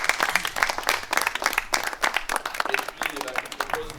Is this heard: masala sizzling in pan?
no